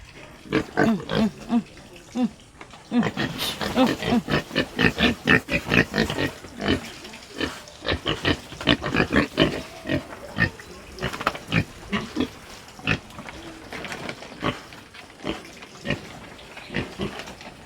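Pig on a rural farm, repeated grunts and squeals in bursts throughout, close and fairly loud, with some faint voices in the background.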